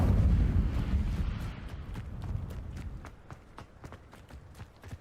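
Incendio fire spell cast in the video game Hogwarts Legacy, a loud low whooshing burst that fades out, followed by a series of sharp, evenly spaced crackling snaps.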